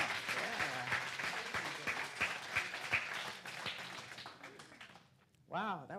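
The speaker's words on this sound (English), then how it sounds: "Can we give Rochelle and friends another round of applause?" A church congregation at a Sunday celebration service claps in a sustained round of applause with a few cheers mixed in, then the clapping fades out and a voice begins speaking near the end.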